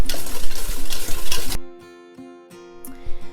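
Beaten eggs whisked together in a bowl, a rapid, dense, close clatter for about a second and a half that then stops, leaving a few light taps over a quiet tonal background.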